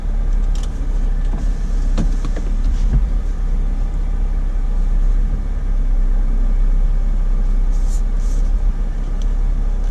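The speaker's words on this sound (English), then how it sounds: "this is a crawl ratio test. First gear, foot off the brake." A vehicle crawling slowly in first gear with the foot off the brake: a loud, steady low engine and drivetrain rumble throughout, with a few light clicks and rattles inside the cabin and no talking.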